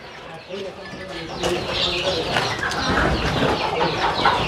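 Free-range country chickens and chicks cluck and peep in a simple raised coop yard, a busy continuous flock chatter with a person talking over it.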